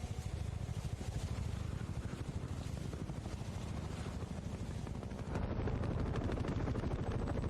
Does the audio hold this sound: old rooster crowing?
no